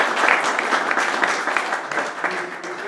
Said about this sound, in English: So I'd like a round of applause for Brian.